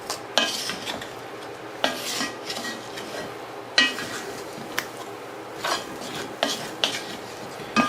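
A utensil stirs browned, toasted flour in a pot for an oxtail stew, producing close scraping and knocking against the metal in irregular bursts separated by short pauses, with no talk.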